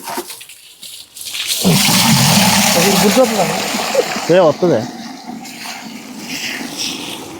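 Water from a hose splashes and sprays loudly onto a motorbike during washing, with a steady rush that fades toward the end. A person talks over the running water.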